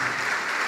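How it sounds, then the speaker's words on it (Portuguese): A church congregation applauds in a steady, even wash of clapping, fairly loud, with no clear voice over it in this brief moment. "vamos aplaudir mais."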